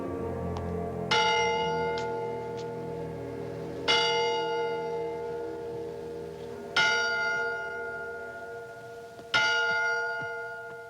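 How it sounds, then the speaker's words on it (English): Four resonant bell chimes ring out at slow, even intervals, each strike lingering and fading before the next. "when he hears the chiming of the bells."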